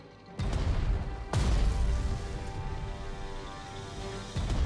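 Rain falls steadily in the strategy video game Strategic Mind: Blitzkrieg, a continuous loud hiss broken by a couple of sudden heavy bursts that swell the downpour, with no voices over it.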